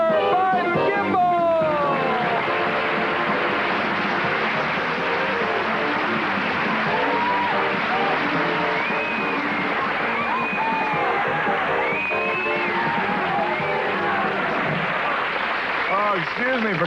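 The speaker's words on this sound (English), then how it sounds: "Oh, excuse me for clapping there." Studio audience applause and cheering for the host of a late-night talk show, a sustained dense wash of clapping and crowd noise with whoops, heard together with talking over it.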